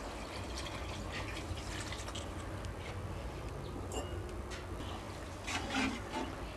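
Water is poured into a cooking pot for mushroom biryani, a steady rushing and splashing pour that runs continuously at close range with no voices.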